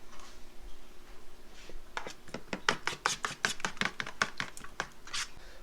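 Spices and ingredients for spicy baked eggplant are mixed in a bowl, making a steady run of quick, crisp taps and scrapes that start after a quiet moment and continue close up to the end.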